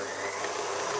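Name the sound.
stand mixer beating vegan cookie dough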